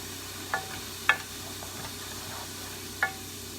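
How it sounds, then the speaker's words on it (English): A spoon stirs garlic powder into a sizzling pan, giving a few light scraping taps over a faint, steady frying hiss, with no talking. "And garlic powder. Stir that up real quick."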